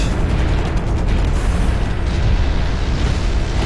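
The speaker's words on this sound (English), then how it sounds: "he throw a little grenade or something at me" Grenade blast in a team deathmatch video game: a loud, continuous booming rumble that fills the whole moment, with no voices over it.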